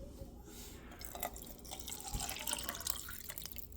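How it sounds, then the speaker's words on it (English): Water poured from a bean can into a pot of chili, a quiet continuous splashing and trickling that lasts a few seconds with small drips. "Then I fill up one of these cans with water, and then we're going to dump it in"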